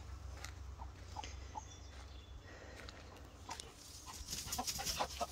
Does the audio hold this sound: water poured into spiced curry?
no